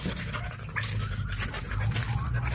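A dog pants and snuffles close by, heavy breathing over a low background rumble.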